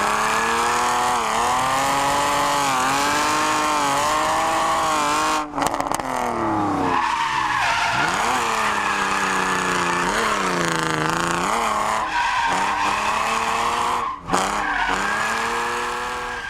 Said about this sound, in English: Close, but not enough RPM, so the engine still bogged coming out of Monza.